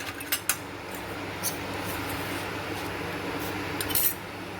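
Mustard seeds and cumin go into hot oil in a pan for Kathiyawadi Girnari khichdi, giving a steady low sizzle with a few small sharp ticks of seeds popping or striking the metal.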